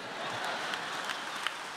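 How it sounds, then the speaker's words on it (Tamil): Studio audience in a Tamil television debate show breaks into steady, dense clapping, a continuous wash of hand claps with a few sharper slaps standing out near the end. "எங்கப்பா அப்படி கட்சிக்காரங்க கைதட்டுற மாதிரி தட்டினாங்க"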